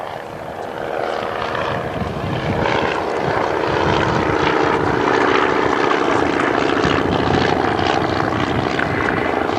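A Hawker Tomtit propeller biplane flies past with a throbbing, pulsing engine drone that builds gradually from moderate to loud and holds steady, with no voices over it.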